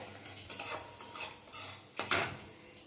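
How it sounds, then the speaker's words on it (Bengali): Salt and sugar being stirred into spices in a pan for a paneer dish, a few soft scraping strokes of a spoon against metal, quiet and close, ending in a slightly louder scrape. "মিশিয়ে নেবো মশলার সাথে নুন আর চিনিটাকে"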